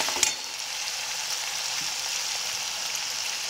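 Raw potato pieces fry in a pan for sabudana khichdi, giving a steady close sizzle with a brief clatter at the start and no voices.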